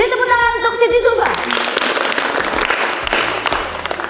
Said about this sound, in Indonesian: Beri tepuk tangan untuk Siti Sulfa.